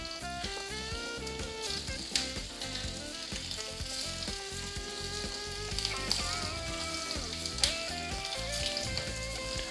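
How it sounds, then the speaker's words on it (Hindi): Kofta kebabs frying over a full flame in hot oil, producing a steady loud sizzle with crackling pops throughout and a musical backing track underneath. "तेल अच्छे से गर्म हो चुका है, और हमें फ्लेम का ख्याल रखना है कि हम फुल फ्लेम पे अपने कोफ्तों को फ्राई करेंगे"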